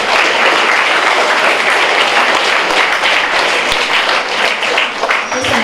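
Sustained audience applause fills the room at a school commemoration of Kossuth Lajos's birth anniversary, dense steady clapping from many hands that holds throughout and eases only slightly at the end.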